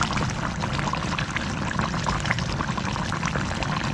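Coconut milk pours steadily onto cooking fish, continuous and close, with a dense wet splashing texture throughout and no talking.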